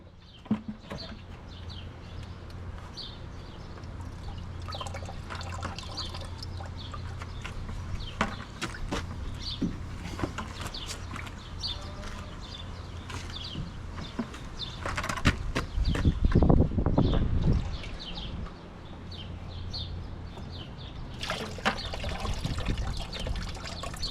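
Corn planter seed sensors being washed by hand in a bucket of water, with steady trickling and sloshing, brief splashy bursts midway, and faint birds and farm sounds outdoors in the background.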